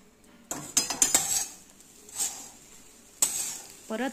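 Bread churma sautéing with salt and coriander in a pan: a low sizzle with a few sharp scraping and clinking strokes of a spatula on the pan, bursts of stirring near the start and again toward the end.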